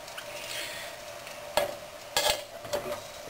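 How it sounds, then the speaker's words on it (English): Garlic sizzles in a pan over an alcohol stove on the trail, cooking for pasta aglio e olio. A steady soft frying hiss runs throughout, broken by a few clicks and scrapes of stirring, with no voices. "You can actually hear it, because you don't want your garlic to burn, because then it tastes bitter."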